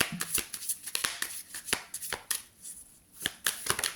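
Tarot-style cards being shuffled by hand up close, a run of quick papery riffles and taps in irregular bursts with short pauses between them.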